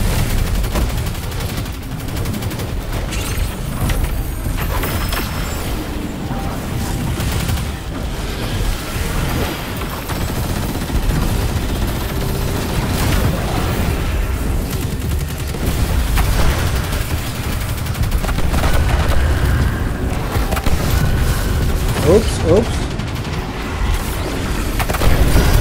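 Dense, continuous Destiny 2 gunfire crackles and booms without pause, with bursts and distant blasts overlapping in a constant barrage.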